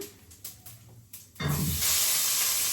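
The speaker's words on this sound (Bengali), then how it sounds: "আলুটি একটু ভাজা করে নিই" Potato pieces go into hot oil with cumin seeds: a few soft clatters, then a loud, steady sizzling hiss bursts in and keeps going to the end.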